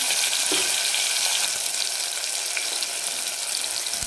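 Tomatoes frying in a pan over a medium gas flame, giving a dense, even hiss of sizzling oil that holds steady throughout, close by and alone without speech.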